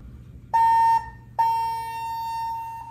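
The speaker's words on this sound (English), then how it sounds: "I swear, these are like the loudest elevators" Two loud electronic chimes from an elevator in a New Orleans building during Mardi Gras, the first short and the second ringing out longer with a slow decay, over faint background hum.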